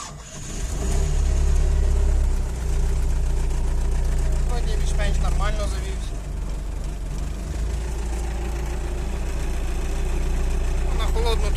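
An MTZ-80 tractor's diesel engine starts and settles into a loud, steady running rumble close by, with a brief rev early on and people speaking over it.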